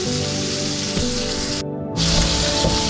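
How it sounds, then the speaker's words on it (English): A rib eye steak sears fat side down in a hot pan, giving a loud, continuous sizzle with one brief gap in the middle before it resumes strongly. "If you like the fat and you want it cooked properly, turn it on the side and give it a good sear"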